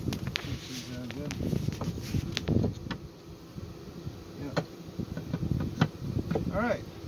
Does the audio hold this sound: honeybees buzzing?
yes